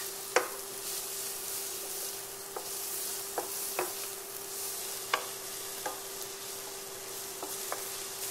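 Chopped leek frying in a pan for a potato dish: a steady, soft sizzle broken by occasional light taps and stirs of a utensil against the pan, close and without talking.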